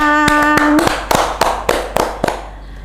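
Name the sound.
hand clapping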